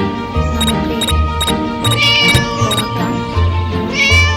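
Repeated cat meows with a synthetic, game-like quality ring out over steady electronic background music, several calls spaced through the loud mix.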